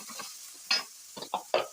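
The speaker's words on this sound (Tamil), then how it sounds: "ஃபர்ஸ்ட் எண்ணெய் ஊற்றி வெந்தயம், அப்புறம் வந்துட்டு கொஞ்சம் சோம்பு, பெரிய வெங்காயம், சின்ன வெங்காயம், வரமிளகா, அப்புறம் வந்துட்டு இஞ்சி பூண்டு இதை போட்டு நல்லா வந்துட்டு ஃப்ரை பண்ணிக்கணும்" Onions, dried red chillies, ginger and garlic frying in hot oil with fenugreek and fennel, stirred in a pan: a soft steady sizzle with a few close scrapes of the spoon, faint and without talk.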